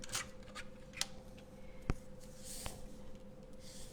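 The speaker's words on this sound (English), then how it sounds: "we'll snip this down so it's a little bit shorter" Scissors snip through card stock in a few quiet, crisp cuts spaced unevenly across a few seconds, with faint paper handling between them.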